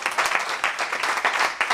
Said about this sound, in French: Applaudissez le Seigneur, frères et sœurs.